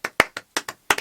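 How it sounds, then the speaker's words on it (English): Hands clap close and loud, seven sharp separate claps in an irregular rhythm over about a second, with silence between them and no voices. "So let's give him a hand clap"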